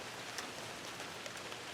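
Steady outdoor rain, a soft even hiss of drops pattering on surfaces with a few slightly louder individual drips, faint and continuous.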